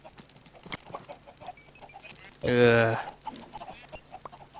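A chicken in a Minecraft chicken farm gives one short, loud cluck partway through, set against quiet game ambience and a brief spoken interjection.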